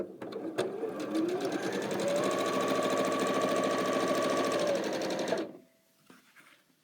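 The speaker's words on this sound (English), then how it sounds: "No drawing, just sewing." A domestic sewing machine runs steadily for about five seconds in one continuous, loud mechanical hum with a rapid rhythmic needle chatter, then stops abruptly, leaving a quiet tail with a faint clunk.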